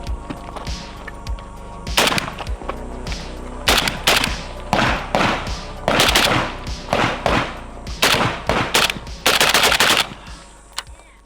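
A PSA Krink rifle fitted with a Sureshot MK3 rail fires outdoors. The shots come loud and close in rapid strings of several rounds, with short pauses between bursts and echoing thumps trailing behind.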